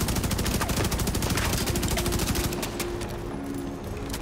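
Carbine gunfire in the video game Division 2, a loud fast run of rapid shots close by that stops after a few seconds and leaves a quieter background.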